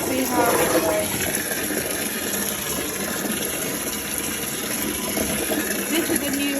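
Water runs steadily from a new garden hose into a container being filled for a trial run of an off-grid instant water heater setup, a continuous broadband gush with a faint hum beneath it throughout.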